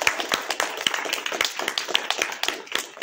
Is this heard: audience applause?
yes